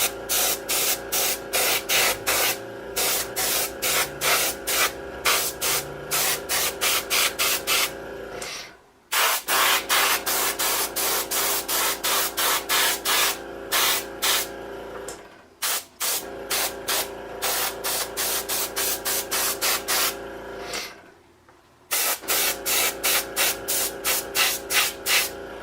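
Paint spray on a model laid down in rapid rhythmic bursts of hiss, pulsing steadily with a few brief pauses between passes, close and loud, no voices.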